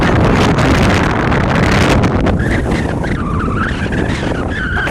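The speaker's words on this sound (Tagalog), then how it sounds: "Hangin, tinatangay ako." Strong wind buffets the microphone in a loud, continuous roar with rushing gusts at the Chocolate Hills in Bohol, joined by a faint whistling tone in the last few seconds.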